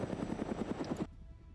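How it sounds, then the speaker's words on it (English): Helicopters in a multiplayer shooter give off a rapid, rhythmic rotor thumping at moderate volume. It cuts off abruptly after about a second, leaving faint background noise. "you can faintly hear the choppers"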